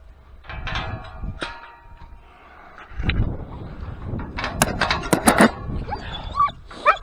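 Several farm dogs bark, yip and whimper outdoors in short, irregular bursts that grow busier toward the end, set against rustling and movement.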